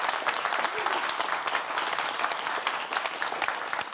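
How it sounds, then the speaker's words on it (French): Studio audience at a French talk show applauding, dense steady clapping from many hands throughout, fairly close and even in loudness, with no speech over it. "Applaudissements pour vous-même, chers amis du public."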